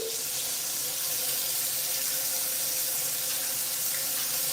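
Water poured from a bottle over the head to resaturate loose, curly hair makes a steady, continuous splashing stream, fairly close and unbroken, with no talking.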